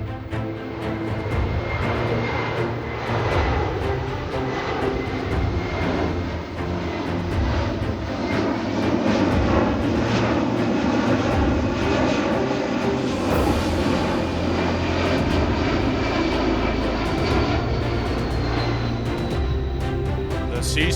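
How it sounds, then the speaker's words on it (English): A C-17 military transport aircraft flies low over an airshow, its engines giving a steady, loud, sustained roar throughout, with a faint whine sweeping partway through and a constant rumble underneath. "The C-17 will now maneuver for a circle over the airfield, showing its ability to fly at slow speeds"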